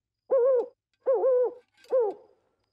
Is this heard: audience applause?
no